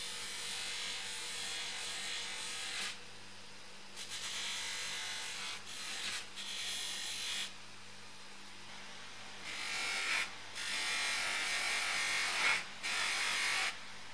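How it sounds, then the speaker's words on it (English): Brass parts from a 110-year-old Disston hand saw being hand-polished with Unipol metal polish, heard as repeated bursts of close, hissy rubbing strokes broken by short pauses. "The last task on the agenda is the final polishing of the brass bits."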